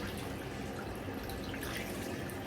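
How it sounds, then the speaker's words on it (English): Water running steadily from both bathroom sink taps while a face is rinsed by hand, with a soft constant splashing and dripping close by and no voices. "I do run my hands under both taps. I do not fill the sink up with the plug. I use running water"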